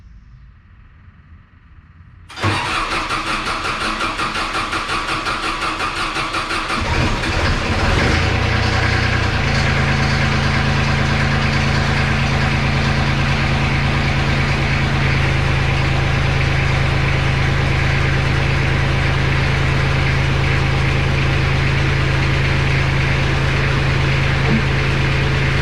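A used skid steer's engine cranks and fires up, then settles into a loud, steady, continuous idle that runs on for over twenty seconds without talk.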